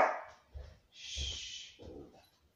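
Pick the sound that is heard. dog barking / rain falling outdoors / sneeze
dog barking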